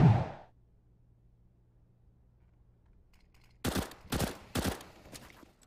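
Three sharp gunshots from Counter-Strike ring out in quick succession near the end, loud and close after a quiet stretch that opens with a brief burst of noise.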